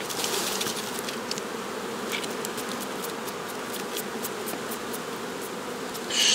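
Carniolan honey bees hum in a dense, continuous drone at a hive, close and steady, with light crackling over it and a louder swell at the very end.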